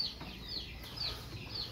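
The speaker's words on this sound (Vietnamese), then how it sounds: "Gà của mình đây, nhiều dữ lắm." Small-cage chickens at a farm cluck faintly in repeated short high calls, spaced out over steady low background noise.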